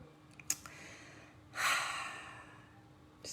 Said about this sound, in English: Just breathing, being in the moment.